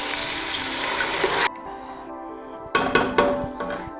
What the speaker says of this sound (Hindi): एक प्याली के करीब हम इसमें पानी डाल देते हैं।